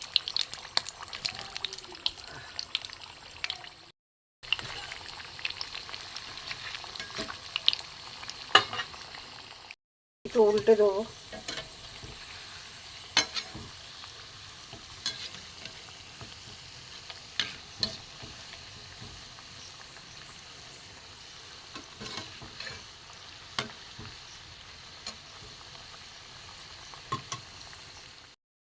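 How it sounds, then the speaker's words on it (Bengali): Khasta biscuits of wheat flour fry one by one in warm oil with a continuous bubbling sizzle, broken by brief gaps and a few clinks as pieces are turned; someone speaks briefly over it. "হালকা গরমে আমি একটা একটা করে দিয়ে দেবো।"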